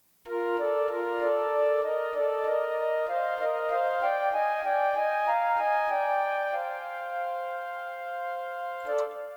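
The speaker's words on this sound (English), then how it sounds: "I have this like ascending ostinato melody that I'm playing on MIDI flutes" Rising, repeating melodic figure played on synthesized MIDI flute, steady sustained tones stepping upward in a looping pattern, loud and alone, with a brief click near the end.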